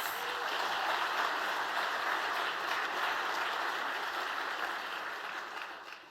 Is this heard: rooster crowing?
no